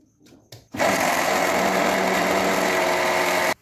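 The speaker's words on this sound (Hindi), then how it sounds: "और चीनी डाल दी अब इसे अच्छे से ब्लेंड कर लेती हूँ" An electric blender whirs loudly and steadily for about three seconds, mixing sugar into cake batter for a soft sponge, after a few brief clicks and knocks as it starts.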